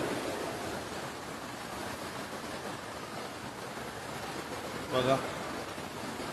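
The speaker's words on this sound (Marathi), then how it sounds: "हा मार्केट कडचा पूल आहे, तर त्यावर सुद्धा जोरदार पाणी चालू आहे" Floodwater rushes hard over a market bridge near shops in a flooded riverbed, a steady broadband roar of flowing water, with a brief voice speaking under it near the end.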